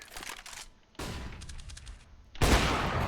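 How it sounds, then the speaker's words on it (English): A flashbang grenade in a tactical shooter, heard as sharp bursts of noise at about 0 and 1 seconds, then a louder blast with a ringing tail at 2.4 seconds, with no talking. "I'm throwing a flashbang."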